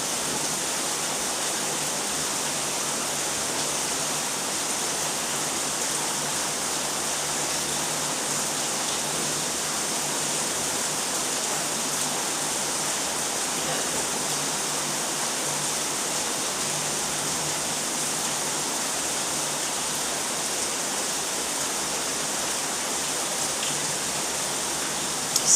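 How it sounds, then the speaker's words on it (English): Steady heavy rain pours outside during a storm, a dense, constant hiss that holds at the same level throughout with no voices. "So, it is storming here."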